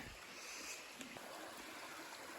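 Holly Brook, a mountain stream flowing beside a hiking trail, gives off a faint, steady wash of running water with no clear voices.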